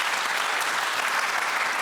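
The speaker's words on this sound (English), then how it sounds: "I would say maybe half of you are applauding, but certainly half of you are not to that." A studio audience at a televised political debate claps throughout, a dense, even wash of applause with no break, fairly loud and close.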